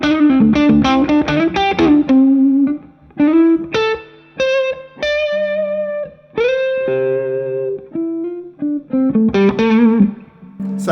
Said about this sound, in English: So Thorpy FX say that this pedal is there to give you edge of breakup tones, which it does.